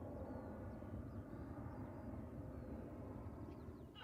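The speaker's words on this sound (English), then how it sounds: "Ryanair touching down from Dublin with flight 558. This is EIDLV, a 737-800." A Ryanair Boeing 737-800 landing at Manchester Airport, a steady low jet rumble and roar at a moderate distance, constant for a few seconds with no talk over it.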